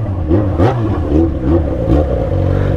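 Yamaha XJ6 motorcycle accelerating, the engine note climbing and dropping through several revving surges, loud and close with a throaty rumble and no talk.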